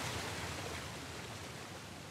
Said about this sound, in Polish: To wodospad.